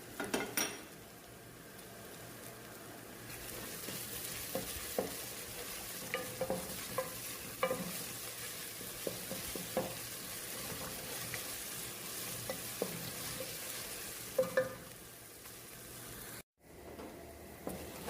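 Garlic fries in a pan over a soft continuous sizzle, stirred with frequent light scrapes and clinks of a utensil against the metal over a long, fairly quiet stretch, ending in a brief silence and a final clatter.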